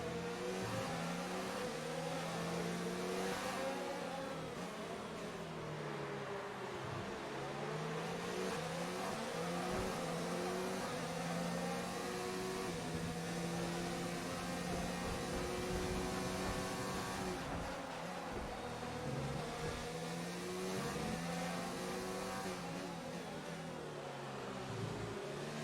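Formula 1 race car engines in a video game career mode, a continuous high-pitched whine of cars on track with rising and falling revs, steady and loud throughout with no talk.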